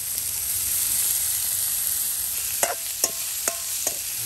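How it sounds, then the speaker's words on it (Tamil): Food sautéing in oil in a home kitchen in Batticaloa, Sri Lanka: a steady broadband sizzle with several sharp stirring scrapes near the end, close and fairly loud, with no talk. "அதுக்கு பிறகு கொஞ்சம் வதக்கிக்கலாம்."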